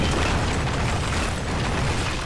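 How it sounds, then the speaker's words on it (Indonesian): A massive explosion of a base in the anime Re:Monster roars as a dense, continuous blast of rumbling noise that fills the whole moment without letting up. "markas manusia meledak hebat dari kejauhan"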